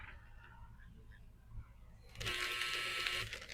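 A clothes dryer buzzer sounds near the end, a sustained bright electronic tone lasting about a second, heard indoors over quiet room noise.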